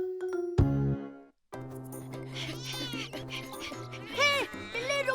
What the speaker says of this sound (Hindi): हे बिल्ली रुक जा,